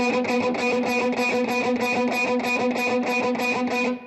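Distorted electric guitar playing a riff on open strings, chugging in a steady rhythm of repeated downstrokes, loud and alone, ending abruptly.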